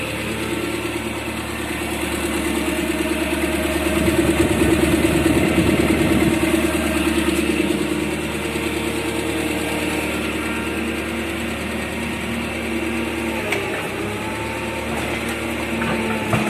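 Japanese two-ton forklift engine started cold and left idling, a steady, loud mechanical drone with a brief surge near the start that then settles, no talking.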